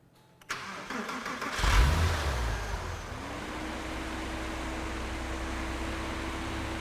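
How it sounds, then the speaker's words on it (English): Porsche engine on a car being checked before an IMS retrofit cranks briefly, catches with a loud burst of revs, then settles into a steady, even idle hum. "Now we're going to go ahead and start up the car."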